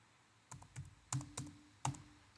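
A password being typed on a computer keyboard, five or six sharp, close key clicks in an uneven rhythm over a quiet background.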